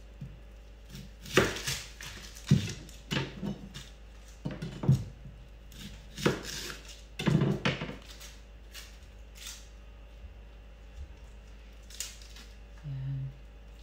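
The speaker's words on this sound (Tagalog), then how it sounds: "Hiwain ko na. Unahin ko muna ito sibuyas." A knife chops an onion on a cutting board in a home kitchen, a string of separate close, sharp knocks with uneven gaps, then a short stretch of quieter handling.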